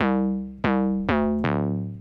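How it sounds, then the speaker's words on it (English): Four punchy, distorted square-wave synth notes hit one after another, each starting bright and decaying, loud and heavily compressed with no talking. "It's a square wave with heavy distortion and compression."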